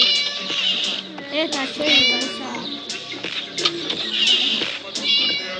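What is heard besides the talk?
cat meowing in the video game Scary Teacher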